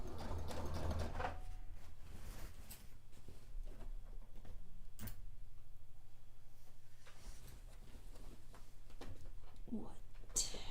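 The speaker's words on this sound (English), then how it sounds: "Fight with the sewing machine." A sewing machine runs continuously for a cape or dress, its rapid needle chatter a steady mechanical rattle close by, with a few sharp knocks and people talking quietly underneath.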